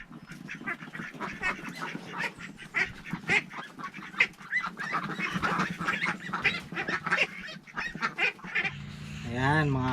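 Domestic ducks (itik) kept as farm animals quack and honk in a busy, overlapping chorus from a nearby corner, with a louder, harsher call rising at the end.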